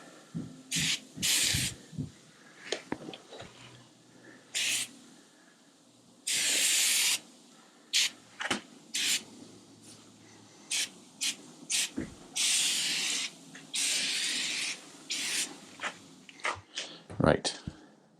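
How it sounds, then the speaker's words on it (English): Repeated hissing bursts of cleaner sprayed onto the brakes of a Royal Enfield Meteor 350 motorcycle, some short and some sustained for a second or more, close to the mic, with clicks and handling noises between. "I'm spraying it all over the brakes because I don't care"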